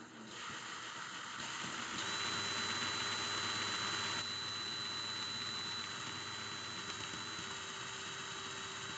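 A power drill runs steadily and loudly throughout, a continuous whirring mechanical drone with a constant high whine and no pauses, during a coil-building session.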